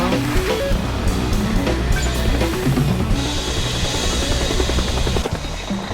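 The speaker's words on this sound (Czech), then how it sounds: "helikoptéra byla přímo za náma" Loud, steady helicopter rotor chop and engine roar in a video game, close by and continuous, amid a busy mix of other game noises.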